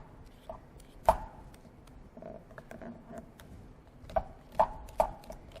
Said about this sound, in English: You're going to want to peel off that hard layer.